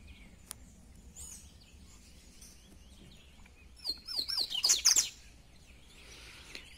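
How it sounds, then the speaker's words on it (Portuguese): A caged coleiro, or double-collared seedeater, lets out a quick burst of bright chirps midway through, set against a quiet, faintly noisy background with sparse softer notes before and after. "Nosso coleirinho relâmpago dourado."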